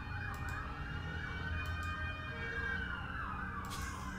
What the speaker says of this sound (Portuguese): Olha essa ambulância!